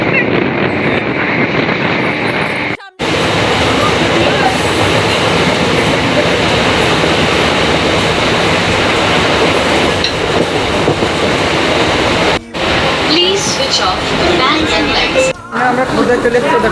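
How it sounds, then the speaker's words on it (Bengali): Steady rumble and rattle of a moving train heard from inside a carriage on a route in Odisha, loud and continuous with brief dropouts and a faint rhythmic clatter, with some wind noise on the microphone. "চলন্ত ট্রেন ভিতরে থাকে।"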